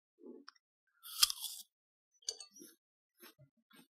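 Someone tastes creamy, smooth almond butter, with a few soft, close mouth sounds and one short crunchy burst of chewing, then quieter chewing in separate small bursts.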